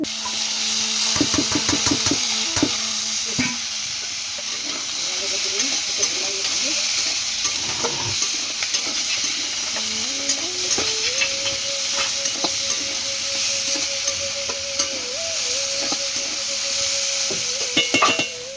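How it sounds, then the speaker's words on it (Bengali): Potatoes frying in hot oil with dried red chili and black cumin seeds in a kadai, giving a loud, steady, close sizzle. A spoon occasionally scrapes and stirs through the frying, with no talking. "তা আগে আমি আলুটা ভেজে নিলাম, এই যে শুকনো লঙ্কা দিয়েছি আর একটু কালো জিরে দিয়েছি"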